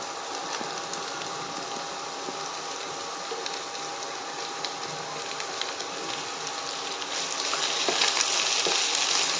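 Watermelon rind and aromatics sautéing in a pan for pickle, a steady bright sizzle with scattered scraping stir clicks, growing slightly louder toward the end, no talking.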